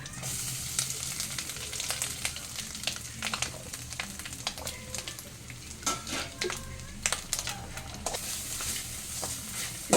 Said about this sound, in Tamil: இந்த தேங்காயை சேர்த்து வறுக்கணும்